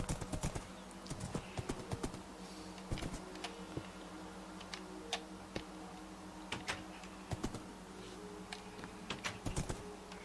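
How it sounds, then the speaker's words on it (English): Horse hooves clip-clopping in the video game Minecraft as a player rides, quiet rapid repeated taps at a steady pace over a low hum. "Oh, you're riding a horse."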